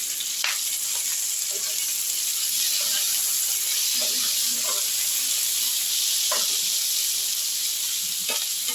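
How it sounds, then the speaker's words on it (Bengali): Capsicum and tomatoes frying over onions for soya chilli, a steady close sizzle and hiss from the pan throughout, with occasional soft clicks of stirring and no voices. "এবার আমি পেঁয়াজের ওপরে ক্যাপসিকামগুলোকেও ভাজতে দিয়ে দেবো আর টমেটোগুলোকেও ভাজতে দিয়ে দিচ্ছি"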